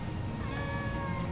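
A Turkish Angora cat meows softly indoors over a steady background hum, its voice a drawn-out tonal cry with no talking.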